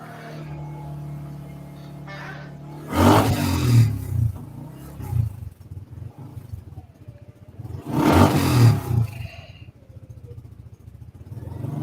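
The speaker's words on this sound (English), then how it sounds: "Sounds like half of my engine." A car engine running rough on only half its cylinders, the rear half dead, gives a low, uneven idle that surges twice into loud, ragged revving bursts before settling back.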